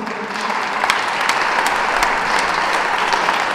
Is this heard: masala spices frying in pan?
no